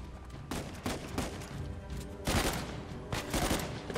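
Bursts of gunfire from a firefight in the video game Uncharted: The Lost Legacy, several loud volleys of rapid shots cracking out over roughly four seconds with brief gaps between them.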